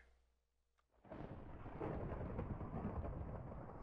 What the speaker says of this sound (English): we got a thunderstorm coming in the batch